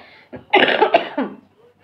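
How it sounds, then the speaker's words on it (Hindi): A single harsh, hacking cough burst, loud and near, trailing off into a brief throat sound, in the cold of Kashmir. "बहुत गंदी खांसी हो रही है यार मुझे"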